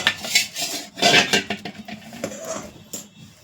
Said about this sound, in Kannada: ಈ ರೀತಿಯಾಗಿ ಹಿಟ್ಟನ್ನು ನೀರನ್ನು ಹಾಕ್ಕೊಂಡು ಈ ರೀತಿಯಾಗಿ ಕಲಿಸ್ಕೊಬೇಕು